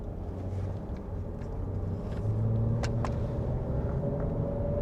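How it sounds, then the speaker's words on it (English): A car engine hums low and steady from inside the cabin while driving, with a few faint clicks and light rattles over the rumble. "I'm gonna go ahead and take it for a drive."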